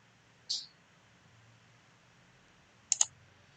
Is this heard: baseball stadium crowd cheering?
no